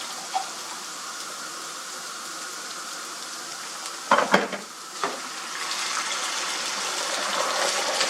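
Boiled water is poured into a pan of rice for shrimp pilaf, sending up a sudden hiss and splash followed by a steady sizzling bubble that carries on without talk.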